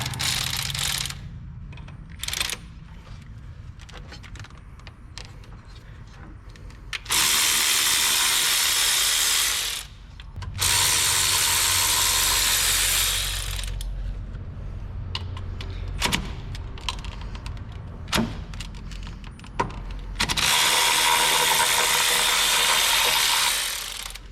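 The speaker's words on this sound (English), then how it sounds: "we can go ahead and remove the 3 bolts that are holding the power steering pump to the bracket" Ratchet wrench with a 17 mm socket backing out the three bolts that hold a Ford Ranger's power steering pump to its bracket, heard as several long bursts of rapid clicking between quieter pauses, close and loud, with no talking.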